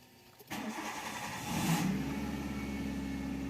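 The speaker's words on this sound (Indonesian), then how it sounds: "Lalu kita starter mobilnya, kita nyalakan ya." A car engine cranks and catches, then settles into a steady, raised idle around 2000 RPM, a continuous close mechanical hum with no talking.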